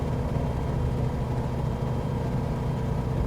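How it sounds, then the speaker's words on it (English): Steady propeller engine drone of an FS Reborn Sting S4 light aircraft in Microsoft Flight Simulator 2024, a continuous even hum with low harmonic rumble, unchanging and close, alone without talk. "So I really like this nuanced sound of the engine here."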